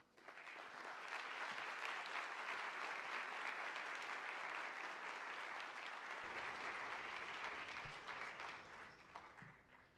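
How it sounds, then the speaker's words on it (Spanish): An audience at a philosophy education event gives sustained applause, a dense wash of clapping that swells quickly, holds steady for several seconds and then tapers off near the end. "Despidámoslos, por favor, con un fuerte aplauso."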